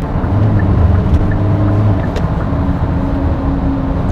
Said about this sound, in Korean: 디젤의 두터운 엔진음 다소 거칠다고 느낄 수 있는데요